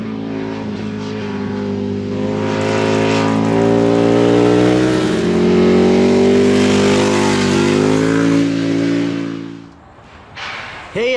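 A car drives around close by, its engine holding a loud steady drone that swells in pitch as it revs, then drops away abruptly before a short rise at the end.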